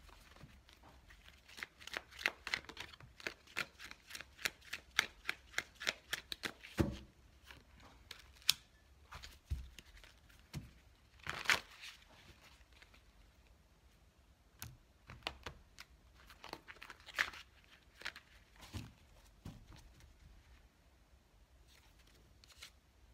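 Tarot cards being shuffled and riffled up close, bursts of rapid papery flicks followed by scattered soft snaps and taps, fairly quiet.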